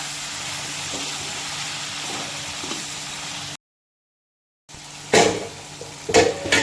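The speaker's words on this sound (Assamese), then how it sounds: "ঔটেঙাটো লগাই বেছি নাভাজো আৰু একেবাৰে পানী ঢালি দিম" Water goes into a pan of frying pork with elephant apple, a sizzling steamy hiss that cuts off into a short silence, then returns with sharp crackling bursts, close and alone.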